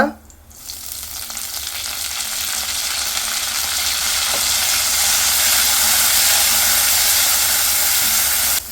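Green chillies and cumin sizzle steadily in hot oil in a pan, a dense, even frying hiss that swells slightly after the first second and holds close and loud throughout, with no voices.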